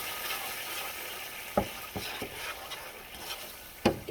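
Ramen stirred in a hot pan, sizzling steadily up close, with a few sharp scrapes and clatters of a utensil against the pan breaking through the frying hiss.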